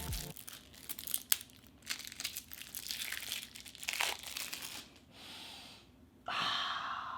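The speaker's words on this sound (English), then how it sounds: "I love opening up a brand new deck of playing cards" A brand new deck of Doctor Strange playing cards being opened up close, with crinkling wrapper, tearing and papery rustles in bursts, then a short quiet gap and a final louder scrape or slide.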